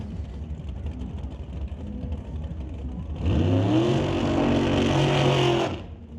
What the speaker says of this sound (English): Burnout complete for the dragster.